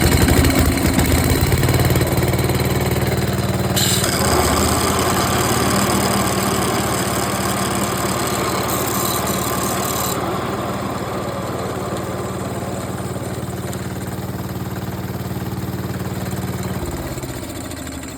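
An old Big Ten lawn mower engine runs steadily at close range, a loud continuous mechanical drone with a shift in pitch partway through, holding a constant idle-like chug for the whole stretch with no talking.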